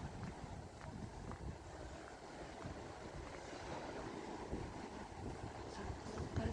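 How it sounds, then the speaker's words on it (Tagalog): Strong sea waves roll and churn under gusting wind that buffets the microphone in a steady, dense roar, with no voices heard. "Grabe yung alon, ang lakas."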